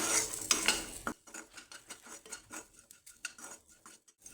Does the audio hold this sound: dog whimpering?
no